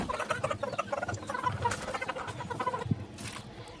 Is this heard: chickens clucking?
yes